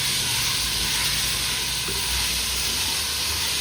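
Chicken frying in oil with ginger, garlic, shallots, tomato and green chili, a loud, dense, continuous sizzle held close and unbroken, with no voices.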